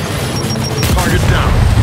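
Gears 5 combat: a frag grenade blast and bursts of gunfire, loud and close, with rumbling booms filling most of the clip and a voice talking over the action.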